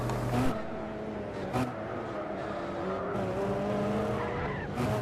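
GT300 race cars in a racing video game endurance event at Motegi spin out, with tires squealing in sustained, wavering tones over the engine drone. Several cars slide at once, and the sound is fairly close.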